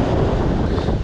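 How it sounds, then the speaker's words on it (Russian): Steady, loud wind buffeting the microphone on the Black Sea shore, a dense low rumble with constant roar and no pauses. "Ну да, ветер, конечно, мешает."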